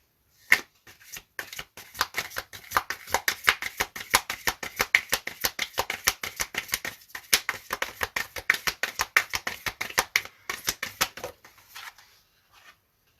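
Tarot de Marseille cards being shuffled by hand, a long run of quick crisp riffling clicks in a steady rhythm that thins out near the end, close and clear with no talking.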